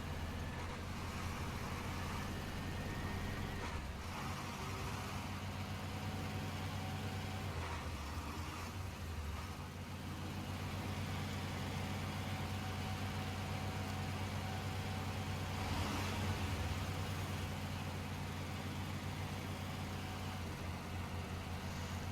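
A heavy truck engine in the video game SnowRunner drones steadily at a low pitch, revving hard and sustained without letup as the truck barely rolls, with no voices over it.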